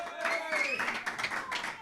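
Audience clapping welcomes Franck Marcoux onto a stage at a televised variety show, a moderate spatter of hands with a faint tonal voice or music running underneath.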